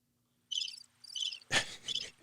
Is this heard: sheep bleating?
no